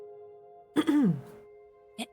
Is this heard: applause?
no